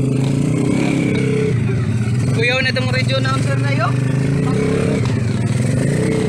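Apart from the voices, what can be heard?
motorcycles on a trail ride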